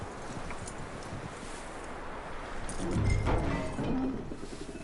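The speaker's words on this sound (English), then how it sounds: "That looks like a decent horse." Horse hooves clip-clop at a walk in Red Dead Redemption 2, a soft, steady rhythm of thuds under wind and rustling outdoor ambience.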